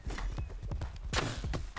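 A horse gallops in the survival game Rust, its hooves making a rapid, steady clip-clop throughout at moderate volume.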